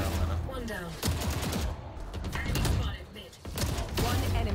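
Crossfire in a video game shooter match: bursts of rapid automatic gunfire and single shots from several directions, loud and close, with short gaps between volleys.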